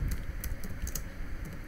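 Computer keyboard being typed on, a quick irregular patter of key clicks, close up, over a low background rumble.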